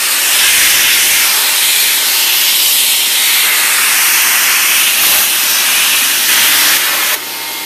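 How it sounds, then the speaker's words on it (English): A blower pushes a steady, loud rush of air across a freshly cleaned air filter from a P71, a continuous broadband hiss that holds for several seconds before easing off slightly near the end. "I'm going to actually hit it with the blower and try to speed up the process a little bit"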